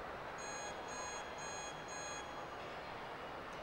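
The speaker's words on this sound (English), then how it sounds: "He heard the buzzer, the 10-second warning" At a World Cup of Pool match, the shot clock sounds its ten-second warning as four evenly spaced electronic beeps over a steady background hiss, then stops.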